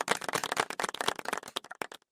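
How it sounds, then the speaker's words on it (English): A group of people clapping in honour of Pokemon Fire Red, with several seconds of dense, irregular handclaps that thin out and fade toward the end. "can we get a clap for Fire Red?"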